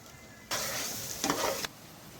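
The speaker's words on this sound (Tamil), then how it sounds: "லவங்கம் ஜீரகம் வெங்காயம் நல்லா வதங்கட்டும்" Cloves, cumin and onion sautéing in a pan for mutton kuzhambu, a quiet background hiss that jumps into a sudden burst of frying sizzle and stirring for about a second before dropping away.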